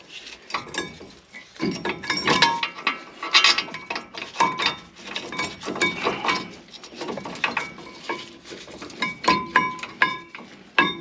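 A wrench works a brake caliper bolt on a 2017-2022 Ford F250 Super Duty 4x4, producing close, irregular metallic ratcheting and rubbing clicks in uneven bursts.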